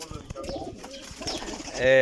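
Pigeons, a breeding pair of Teddy Golden pigeons among others in a loft, coo in soft repeated throaty calls, mingled with brief chirps and rustling, with someone talking nearby.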